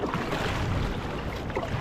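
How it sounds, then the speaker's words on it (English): A kayak is paddled through choppy sea, water sloshing and splashing against the hull with wind rushing over it, a continuous close churn. "And then just keep paddling."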